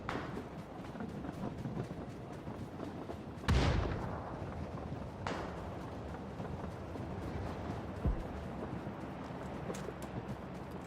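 In PUBG on the Vikendi map, distant gunfire from a mountain and heavy booms go off sporadically over a steady background rumble, with one sharp blast standing out louder than the rest.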